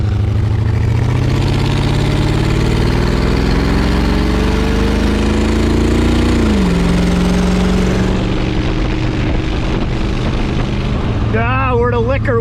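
A home-built 1928 Ford Roadster engine drones loudly and continuously on the road, its pitch rising steadily under acceleration, then dropping sharply as it shifts, with wind rush and a voice breaking in near the end.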